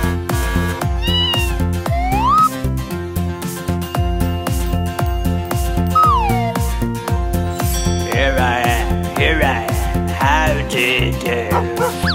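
Cartoon cat meows in a spooky children's song, several short rising calls set over steady loud music with bass and percussion, with no talking.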